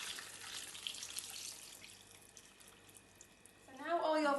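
Hot stock pours into a soup mixture in a kitchen, a soft liquid trickling and splashing that stays fairly quiet before a voice begins speaking at the end.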